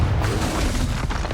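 Confringo fire spell blast in Hogwarts Legacy, a short, loud, close boom with a rumbling burst that quickly trails off.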